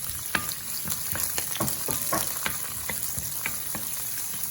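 Onion, green chilli and three garlic cloves fry loudly in a hot pan after cumin, a close, crackling sizzle broken by rhythmic scraping strokes of a stirring spoon.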